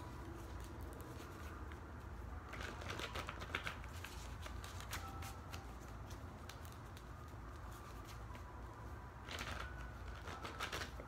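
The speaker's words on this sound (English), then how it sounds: "I'm just shuffling this deck up." Quiet tarot card shuffling in two bursts of rapid riffling clicks, separated by a stretch of low background hum.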